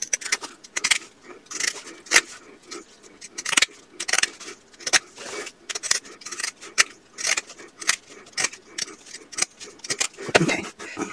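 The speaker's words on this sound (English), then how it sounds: "Now I'm going to take my pinking shears and I'm going to cut down this end" Pinking shears snip through fabric while a small sewn pouch is trimmed, giving a steady series of close, crisp metallic cuts and clicks with brief pauses between strokes.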